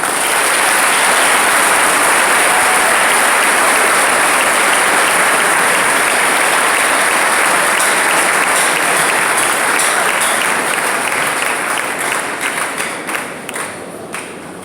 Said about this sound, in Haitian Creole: Yon fois encore demander nous un gros applaudissement pour nous conférencer.